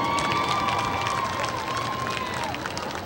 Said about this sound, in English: another big round of applause for the sophomore maids and their amazing escorts